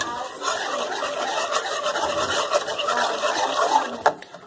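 Dough being mixed after a cup of flour is added for a Turkish sultan's bite dessert, a steady close scraping and rubbing that runs throughout with a sharp knock near the end.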